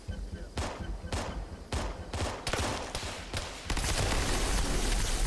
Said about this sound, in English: Like heading for the gunfire.